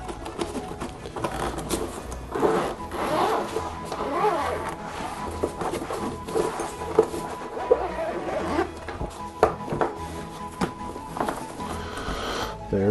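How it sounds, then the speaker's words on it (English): The stiff zipper on a cheap violin case is tugged in repeated rasping bursts, some short and some dragged out, close up and uneven, with no talk. "Very crappy zipper."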